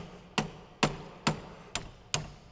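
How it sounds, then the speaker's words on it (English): Five heavy metallic hammer blows on a rear brake caliper bracket of a 2010 Dodge Caravan land at a steady, even pace, each a sharp close strike with a brief ringing decay. "just spend your time and hammer the crap out of it"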